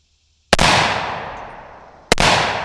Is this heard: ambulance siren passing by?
no